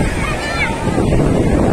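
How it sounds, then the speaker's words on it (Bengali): Sea waves at Puri beach roar loudly and continuously up close, mixed with heavy wind buffeting the microphone. "সমুদ্রের এত ঢেউ, আওয়াজে তো কিছু শোনাই যাচ্ছে না।"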